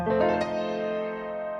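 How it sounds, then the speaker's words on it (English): A single F dominant seventh chord struck on a piano, ringing out and slowly decaying. "What about an F dominant 7?"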